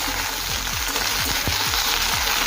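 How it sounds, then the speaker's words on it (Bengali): Okra and potatoes frying in a pan give a steady, close sizzle, with a few low clunks as the pieces go in and get stirred. No one speaks. "এখন দেবো কেটে রাখা ঢেঁড়স বা ভিন্ডি।"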